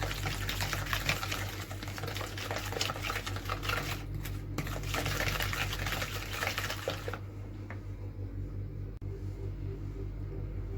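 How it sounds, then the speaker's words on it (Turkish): Yogurt being whisked into cake batter in a bowl, a steady close clattering whir running for about seven seconds before it stops, leaving a quieter low hum. "Şimdi onları da çırpacağım."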